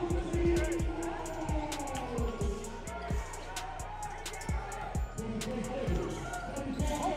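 Crowd in a college basketball arena roars and cheers loudly throughout a game, with squeaking shoes and a bouncing ball, under a commentator's continuous talk.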